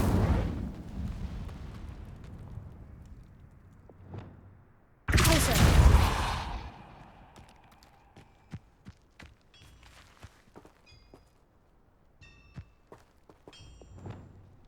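The Incendio fire spell is cast in Hogwarts Legacy, a sudden loud burst of roaring blast noise after a quieter rumble, followed by scattered clicks, thuds and small impacts.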